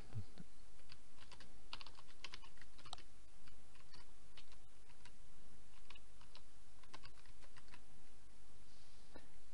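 Keys clatter on a computer keyboard as a plugin search is typed, a quick irregular run of crisp taps with short pauses, close and steady throughout.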